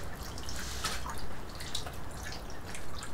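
Water drips and trickles off animal hides as they are lifted out of a bath, a close, continuous patter of small splashes and runs, with no talking.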